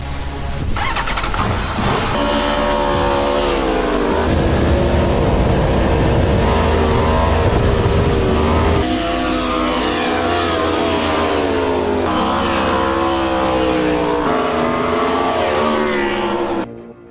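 A 2019 Aprilia V4 1100 Factory motorcycle on a race track, its engine loud and close, revving up through rising, falling tones with gear changes before cutting off at the end.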